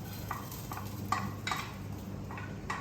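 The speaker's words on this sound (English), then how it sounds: "I'm just going to saute it for a bit." Soaked and boiled bajra millet sautéed in a pan, soft sizzle under a run of light rhythmic scrapes and taps of a spatula against the metal, quiet and close.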